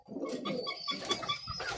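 Pigeons coo in close, soft repeated throaty calls overlapping in a loose rhythm, with no voices.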